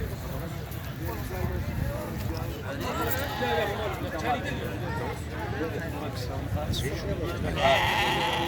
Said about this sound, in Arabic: ما شاء الله زين زين الخروف.